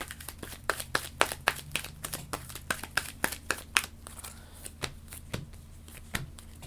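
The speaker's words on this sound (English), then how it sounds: "so we'll draw up, and then we will shuffle." Cards from the Heat: Petal to the Metal board game deck being shuffled by hand on a table, a rapid series of crisp riffling snaps and slaps, close and alone.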